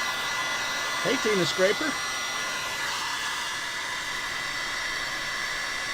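Heat gun blowing hot air in a steady, loud broadband hiss throughout, with a brief spoken remark partway through.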